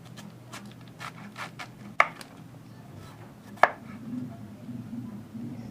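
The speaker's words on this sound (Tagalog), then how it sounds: "hiwain mo na siya ng ayon sa iyong gustong laki" A knife chops banana blossom (puso ng saging) on a board, with a run of soft quick cuts and two sharper, louder knocks against the surface, fairly close.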